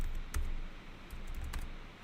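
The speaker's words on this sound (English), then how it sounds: "Sometimes my typing gets ahead of my computer when it's busy" Typing on a computer keyboard during live-coding in Emacs, a few sparse, soft key clicks scattered over a steady low room noise, close but faint.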